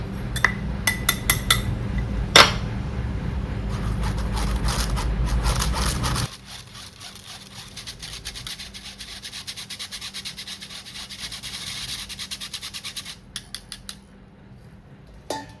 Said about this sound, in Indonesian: Campur, aduk hingga merata.